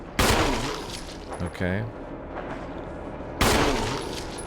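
Two loud gunshots ring out in Resident Evil 1 Remake, aimed at a zombie's head, spaced a few seconds apart with crisp attacks and decaying tails, and a short spoken word between them.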